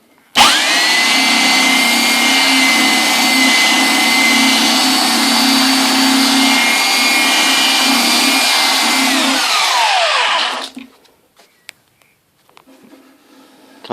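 A power sander runs continuously for about ten seconds along the edge of a scaffold board, a loud, close, steady whine with a gritty rasp that spins down and stops, leaving faint clatter.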